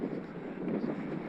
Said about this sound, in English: What an absolutely horrendous headwind on this high Peak District plateau.